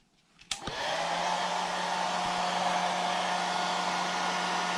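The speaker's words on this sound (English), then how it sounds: "And then I'm going to use the hairdryer again." A hair dryer, used to dry paint on a carved wooden face, clicks on and settles into a steady, loud whooshing blow with a constant motor hum, running without pause.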